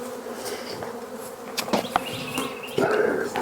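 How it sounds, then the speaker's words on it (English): Dense, steady buzzing of many bees swarming around a horizontal beehive damaged by hive beetles, with individual insects droning louder as they pass close, some faint knocks in the background. "There's too many bees."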